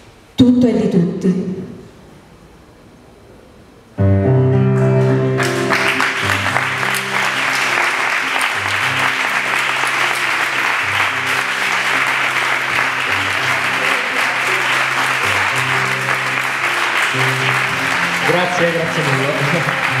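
Audience applause breaks out after a reading from the novel Q at a 2013 event with live music, following a short spoken thank-you; the clapping is loud and sustained with musical tones ringing beneath it.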